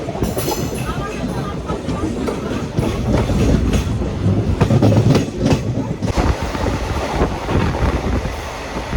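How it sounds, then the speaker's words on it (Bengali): Kolkata–Haldibari superfast express train pulling into Rampurhat Junction, loud continuous rumble and rattle of carriages with rhythmic clatter and wind buffeting the microphone, heard close from on board. "রামপুরহাট জংশন স্টেশনে ট্রেনটা ঢুকলো"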